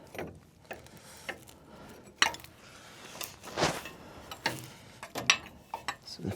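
A wrench loosens a fitting on a dump truck, with scattered close metallic clicks, clanks and short scraping bursts at irregular intervals against a quiet background.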